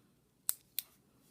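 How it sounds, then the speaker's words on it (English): Two sharp snips of nail clippers or scissors trimming an acrylic nail to length, each a crisp isolated click about a third of a second apart, close and fairly quiet against near silence. "I'm just going to cut this one a little bit more."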